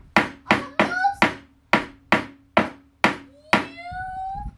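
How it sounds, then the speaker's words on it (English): Repeated hammer blows, about eight sharp evenly spaced strikes, in a workshop with children working as a team, close and loud, with a faint adult voice between hits near the end. "Just a little bit more hammering."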